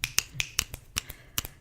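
Fingers snapping in a quick, uneven series of about eight crisp, close clicks, sharp and dry against a quiet background.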